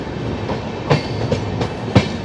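Haridwar–Lokmanya Tilak Terminus Express at a station platform, with a steady rumble of railcars and a few sharp clacks of wheels over rail joints spaced through the clip, fairly close and continuous.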